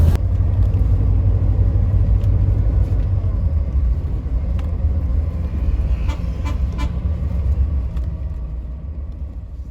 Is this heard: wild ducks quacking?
no